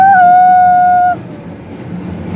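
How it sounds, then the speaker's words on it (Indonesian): A train slowing near a river sounds a loud, steady two-tone horn for about a second, then rumbles on with a broad, rolling roar of wheels and cars passing close by. "Kereta apiku datang."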